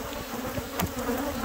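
Thousands of agitated bees buzz in a dense, steady swarm during a bee rescue, a loud continuous drone with no voices over it.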